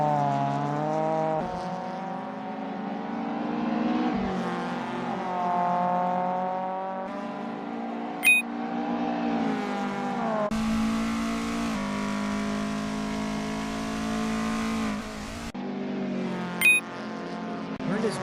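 A Mk1 Golf race car engine in a sim racing game qualifying run revs loudly and continuously, pitch climbing and dropping through gear changes, with a brief abrupt shift in tone midway.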